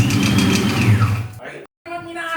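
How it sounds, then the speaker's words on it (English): Saleen car engine with a rod knock, running loud and rough with a rapid rhythmic knocking before cutting off abruptly, followed by a person speaking. "Why is it knocking?"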